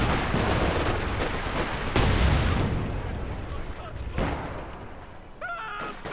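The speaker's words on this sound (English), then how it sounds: "There again, you just see more mines going off" Mines going off during a Company of Heroes 2 match, a dense rolling wash of booming blasts and gunfire that stays loud and continuous, with sharper bursts scattered throughout.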